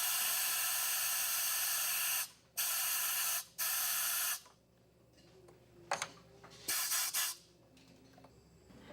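Scuba regulator second stage being bench-tested, its purge valve giving loud sustained bursts of hiss broken by short gaps, then quieter mechanical clicks and brief spurts.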